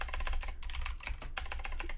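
Rapid computer keyboard typing clatters close and steady, with a flurry of quick keystrokes and a brief pause midway.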